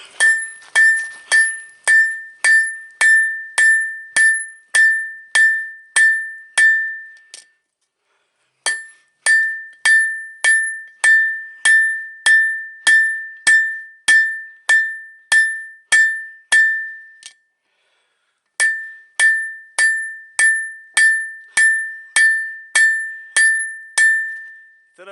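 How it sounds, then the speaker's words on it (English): A hammer striking a knife blade being forged on an anvil, loud ringing metallic blows in steady rapid runs of about a dozen hits, separated by two brief pauses, close and alone. "time to hammer up some more"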